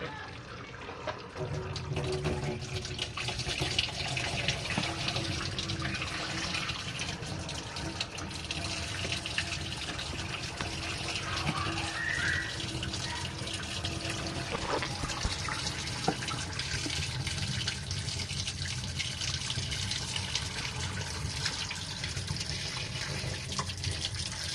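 An RV washing machine drains in a continuous rushing gush of water, loud, close and steady for the full stretch without pause.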